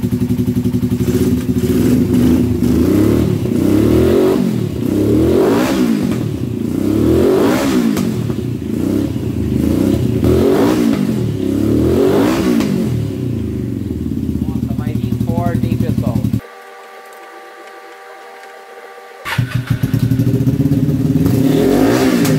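Carbureted turbo-project motorcycle engine running without boost pressurization on a triple throttle cable setup, loud rhythmic revs rising and falling repeatedly, a brief drop to near silence, then idling again.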